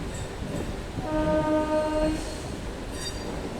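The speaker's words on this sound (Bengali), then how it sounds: "আমাদের ট্রেনটা এখন ডান দিকে কিন্তু বাঁক নেবে" A local train from Howrah to Belur Math rumbles steadily along the track as it curves right, with a tonal horn or wheel squeal rising briefly in the middle.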